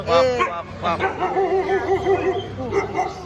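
A big dog barks and yips in quick bursts up close at a birthday gathering, with people chattering around it.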